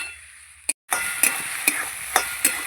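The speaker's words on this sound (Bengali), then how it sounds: "সময় নিয়ে ভালো করে কষাবো" Tomato and spice masala sizzles in a pan for a puti fish curry, with a brief gap and then several sharp scraping stirs of a spoon against the pan over a steady hiss.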